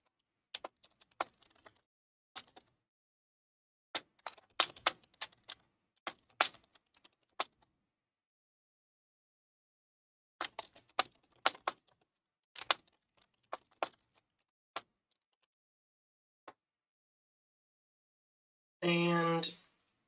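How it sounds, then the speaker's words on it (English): Bursts of clicky keystrokes on a computer keyboard, irregular and fairly close, separated by pauses, with a brief voice near the end. "I'm just gonna type that."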